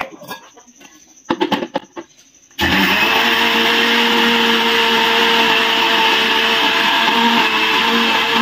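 Several faint knocks and clatters come first. Then an electric mixer-grinder starts abruptly and runs loud and steady, grinding spices with turmeric, a continuous motor whine that holds to the end.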